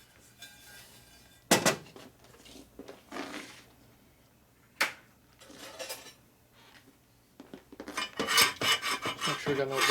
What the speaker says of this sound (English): Make sure we got no burrs on here. You can hear that little burr.